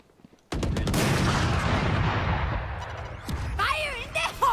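Gunfire in the video game Valorant: a sudden loud burst of rapid automatic shots keeps going for about three seconds, and a voice speaks over the end of it.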